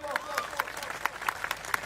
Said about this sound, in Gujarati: અહીં ઉભેલા પોલીસ જવાનો માટે એકવાર જોરદાર તાળીઓ પાડી લો.